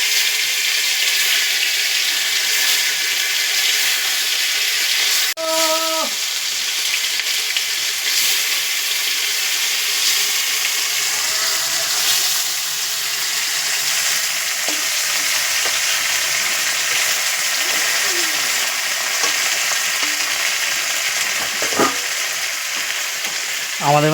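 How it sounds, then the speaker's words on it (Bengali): Amadi fish frying in a pan gives a loud, constant sizzle of hot oil that runs unbroken throughout, with a few faint clinks in the background. "আমাদি মাছ ভাজা হচ্ছে।"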